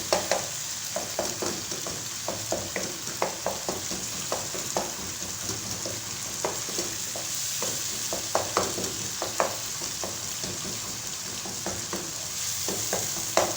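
Cooked, tender tomatoes are mashed in a pan, giving repeated soft squelching presses and scraping taps in an irregular rhythm over a steady low sizzle, close and fairly quiet with no talk.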